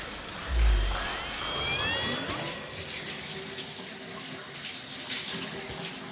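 Cold water runs steadily from a tap, a close, continuous rushing flow that fills the whole stretch with no voices over it.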